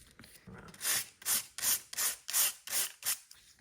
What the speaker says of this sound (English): I'd like to just sand these ones a little bit.